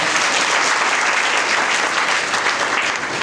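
A church congregation at an Easter service claps in a dense, sustained round of applause that fills the room and stays steady throughout.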